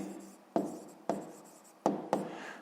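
Pen or pencil writing out a sixth-grade math answer on paper, four distinct scratchy strokes each fading quickly, close and quiet with no talking.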